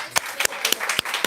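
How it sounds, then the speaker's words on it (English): Clapping breaks out at a community event on famine and food, with several distinct sharp hand claps standing out above a lighter patter of applause for about a second, close and fairly loud. "Can we also give her a big round of applause?"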